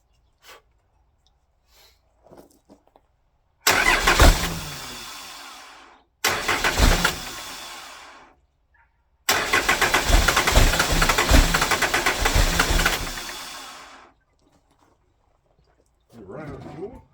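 A 12 valve Cummins diesel paired with an Allison 542 transmission cranks in loud rough bursts, catches and runs for about five seconds, then cuts out, with quiet gaps between attempts.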